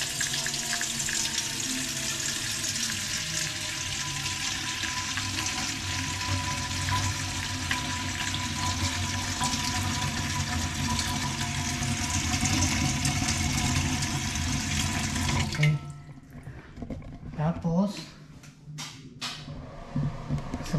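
Tap water runs in a house, a steady hissing stream that fills the first fifteen seconds before it cuts off, leaving quieter clunks and brief knocks of handling and no talking.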